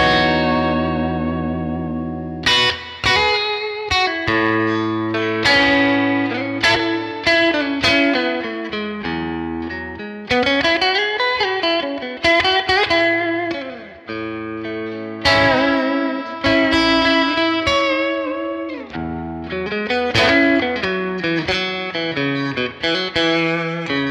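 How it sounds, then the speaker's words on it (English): Electric guitar through a clean Fender amp with a boost pedal engaged, strummed chords and picked notes ringing with echo and slight grit, clear and close, with no talk. "Listen to what the boost does just for a clean amp."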